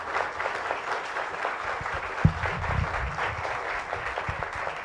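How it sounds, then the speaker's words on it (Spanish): Sustained applause from an audience at a live public talk and dialogue event, steady dense clapping throughout with one sharper clap standing out midway, no voices over it. "Yo quiero que le demos un fuerte aplauso"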